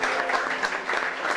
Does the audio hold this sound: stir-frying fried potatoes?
no